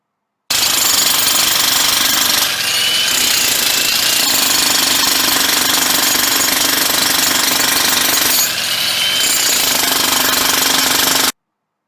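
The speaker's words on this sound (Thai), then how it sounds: "คำตอบนะครับก็คือ เสียงของการขุดเจาะถนนนั่นเองนะครับ" Jackhammer breaking into a road surface, a loud, continuous rapid hammering rattle that runs for roughly eleven seconds with brief dips in intensity.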